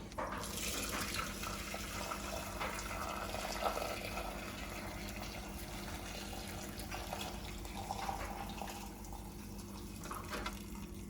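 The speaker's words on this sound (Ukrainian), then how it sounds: "Все тепер можна процічувати." Salmon soup broth pours and splashes continuously through a strainer, a full watery rush that stays close and steady without any talking.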